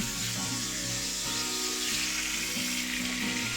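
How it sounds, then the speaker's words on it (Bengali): Marinated chicken legs fry in oil and ghee in a kadai, giving a close, steady sizzle with a faint tonal hum beneath and no talk. "ঘি গলে গেলেই চিকেনে ম্যারিনেট করা লেগগুলো প্যানে ছেড়ে দিলাম"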